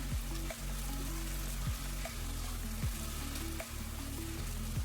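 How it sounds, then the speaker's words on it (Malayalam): Marinated chicken frying in coconut oil over a high flame, a steady close sizzle broken by repeated scraping strokes of a spoon stirring the pan, with no talking. "വെളിച്ചെണ്ണയും ചിക്കനൊക്കെ കൂടി നന്നായിട്ടൊന്ന് മിക്സ് ചെയ്തെടുക്കാം"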